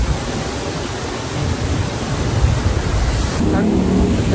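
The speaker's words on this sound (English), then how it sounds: "This is the outer part of the waterfall." Steady, dense roar of falling water at the outer edge of the Gerald D. Hines Waterwall Park waterfall in Houston, a broad wash of noise filling the scene close up and unbroken.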